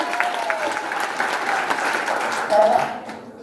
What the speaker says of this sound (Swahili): Tupige mashiro makofi mazuri.